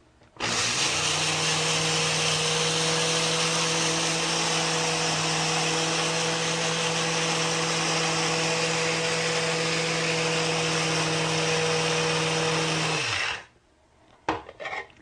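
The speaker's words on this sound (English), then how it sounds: "I need to grind this for about a minute so that they're well ground into very small bits." Flaxseed is ground in an electric grinder, with a loud, steady motor whir running unbroken for about thirteen seconds before cutting off, then a few brief clunks.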